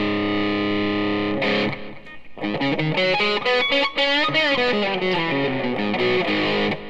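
An electric guitar runs through a Boss DS-2 distortion pedal set to mode 2, first a sustained distorted chord ringing out, then a fast run of heavily distorted notes and bends, loud and alone.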